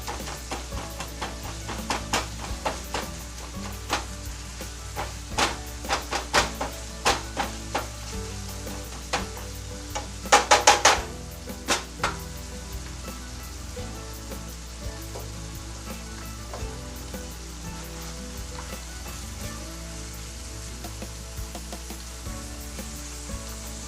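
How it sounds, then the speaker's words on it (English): Onions sautéing in a pan for sloppy joes, a steady soft sizzle punctuated by scattered utensil clicks and a brief burst of stirring scrapes midway, with no talking. "Just put the onions up in there while they saute."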